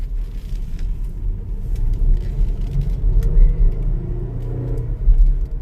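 A 2017 Jeep Grand Cherokee RWD with an 8-speed automatic accelerates, its low engine rumble building and swelling steadily from inside the cabin, with no talk.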